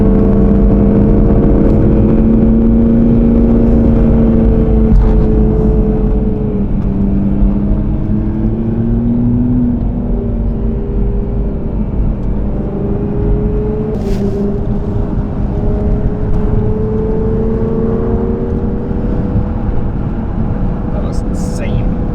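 Several supercars rolling out together on an Arizona mountain drive, their engines droning loudly and climbing in pitch as they accelerate, with a continuous close, heavy rumble throughout.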